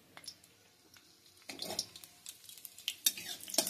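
Whole cumin seeds and dry red chilies frying in hot mustard oil in a pan, with a quiet crackle and light sizzle and a few soft spatula scrapes that grow busier and louder toward the end.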